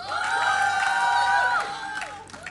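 Live esports crowd at an IPL3 event in Atlantic City cheering loudly, a sustained swell of shouts and whoops from many voices that fades after a couple of seconds.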